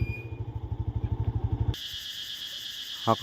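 A low, rhythmic engine putter gives way abruptly to a steady, shrill buzzing of cicadas that carries on to the end, with a brief knock near the close.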